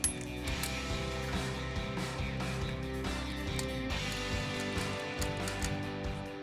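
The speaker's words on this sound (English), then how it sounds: "We torque the heads in 3 stages for a nice even clamp load." A torque wrench tightens the cylinder head bolts on a big-block engine in its final pass. Close, steady ratcheting clicks and mechanical creaks repeat over a constant background hum.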